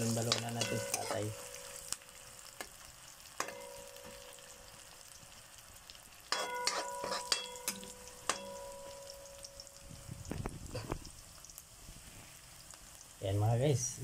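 Garlic, onion and ginger frying in a pan before chicken gizzards go in, a quiet sizzle punctuated by sharp clinks and scrapes of stirring, with louder bursts at the start and end.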